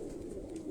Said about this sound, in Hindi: ये दोस्तों ज़रा बुरा मना रहा है ये कबूतर